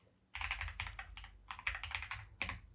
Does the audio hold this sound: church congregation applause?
no